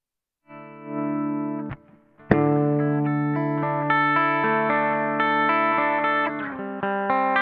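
A PRS SE Custom 24 electric guitar through a clean amp channel rings out sustained chords, a brief pause and sharp pick attack, then steady strummed chords holding at even loudness with slight effects shimmer.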